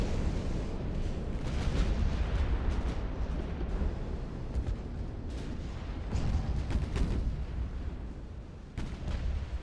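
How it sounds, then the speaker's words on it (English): Two torpedoes strike a warship's bow in the naval game Ultimate Admiral: Dreadnoughts, giving heavy rumbling explosions and rolling booms that swell and fade over a dense, continuous roar of battle. "And 2 torpedoes to the bow and it hits this whole section."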